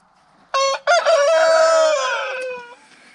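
A single rooster crows loudly and nearby on a snowy day, one long drawn-out call with a brief break after the opening note.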